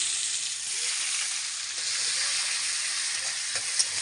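Onions hitting a wok of leftover fish-frying oil with tempering spices give a loud, continuous close-up sizzle that holds steady throughout, with faint stirring underneath.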